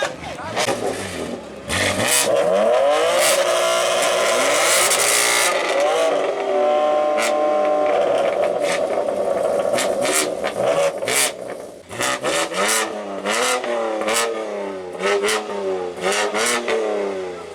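BMW cars rev loudly nearby at a motor show in Killarney, engines roaring up and down in repeated bursts, with people talking and shouting underneath.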